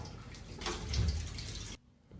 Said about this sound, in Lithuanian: bet plaunam butelius po vandeniu